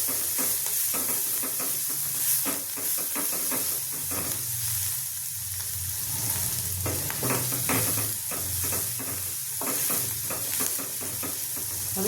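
A mixture is stirred and fried in a pan for bedami poori, with a constant hiss of frying under repeated rhythmic scraping strokes of a spoon against the pan, close and fairly loud.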